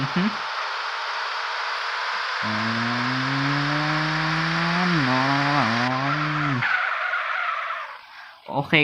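Modded car in GTA San Andreas on mobile revs with a buzzing engine whine that climbs and dips through gear changes, over a constant hiss of tire skidding, ending in a short rough scrape.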